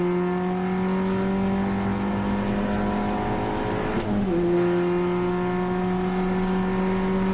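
An Audi TT on a race track lifts briefly for a small brake into a high-speed corner, then goes back on the throttle, its steady engine drone dipping and rising again, loud and close from inside the car.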